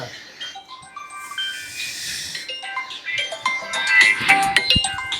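A mobile phone ringtone plays as a bright electronic melody of rising and falling tones, moderately loud and close, with a brief hissing burst partway through.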